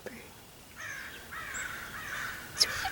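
A bird calls outdoors in a few harsh, crow-like caws, moderately close, with quiet ambient background between the calls.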